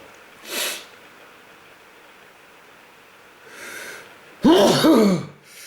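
A loud, sharp sneeze bursts out near the end after a couple of quieter sniffs and breaths, with near silence between them.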